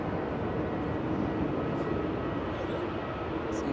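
Aircraft taxiing at Manchester Airport, a steady, fairly loud engine rumble and whine that holds evenly throughout with no talk.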